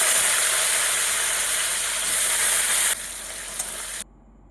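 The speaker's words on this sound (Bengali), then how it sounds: "এবার আমি মাছগুলো তুলে নিয়ে ওই মাছ ভাজার তেলেই আলুগুলোকেও ভেজে নেব।" Potatoes fry in oil left over from frying rohu fish, a loud, dense, continuous sizzle close by that drops a step midway and then cuts off sharply near the end.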